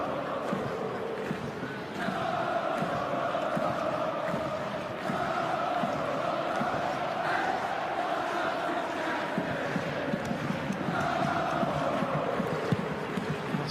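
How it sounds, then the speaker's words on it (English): Sydney football fans cheering in a stadium, a broad sustained crowd roar with swelling chants that rises and falls over several seconds, steady and fairly distant. "Sydney fans cheering what they believe might just be a 5th successive win"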